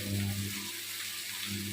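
Water is poured into a hot pan, giving a soft, brief hissing splash over a low background hum.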